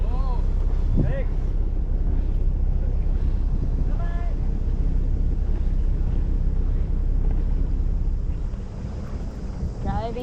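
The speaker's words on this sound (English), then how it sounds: "Driving out of the marina." A boat motors out of a marina at the start of an Indian Ocean crossing, a steady low engine rumble with wind buffeting the microphone, while voices speak over it and the noise eases near the end.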